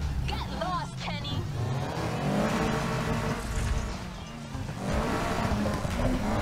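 A BMW racing in Need for Speed Heat, its engine revving and roaring with tire squeal and shifting pitch throughout, while a player talks over the driving.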